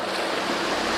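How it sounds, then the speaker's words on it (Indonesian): Big ocean waves make a dense, continuous roaring wash, loud and close, with no voices in this short moment. "ini ombaknya besar"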